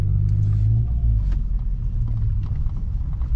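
A car rumbles past on a road in the Javakheti countryside, a loud close engine drone that swells and fades with no talking.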